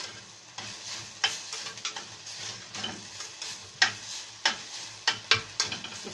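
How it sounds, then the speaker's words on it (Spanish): Ground meat for picadillo frying in a pan, a steady sizzle broken by repeated scraping clicks of a spoon stirring it, close and fairly quiet with no talking. "Nada más estarle moviendo para que no se nos queme la carne"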